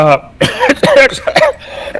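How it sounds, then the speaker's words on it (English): A couple of sharp coughs close up, then a voice speaking briefly between further short throat sounds. "I apologize for the cough."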